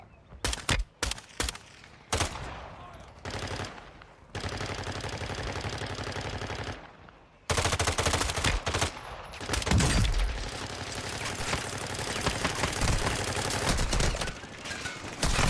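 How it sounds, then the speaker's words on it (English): Gunfire in the Warzone 2 video game: loud, close bursts of automatic fire, first short stuttering volleys and then long sustained stretches of shooting, with no talking. "he's shooting from the other way."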